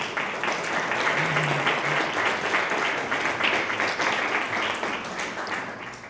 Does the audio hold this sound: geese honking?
no